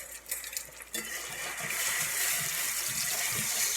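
Scrambled eggs sizzle in hot bacon grease while a utensil scrapes and stirs the pan in short repeated strokes, the frying hiss growing steady and loud.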